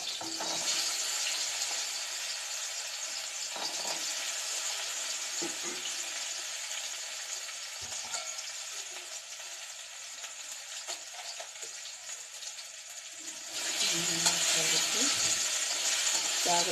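Cut jackfruit seed pieces fry in a pan of hot oil. A steady bright sizzle runs throughout with faint clinks and scrapes, then it jumps louder and harsher near the end as the pan is stirred.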